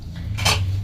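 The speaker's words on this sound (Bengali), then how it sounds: "দিয়ে দিলাম ঢাকা" A metal lid clinks down onto a cooking pot in a home kitchen, one quick bright clatter over a low steady hum.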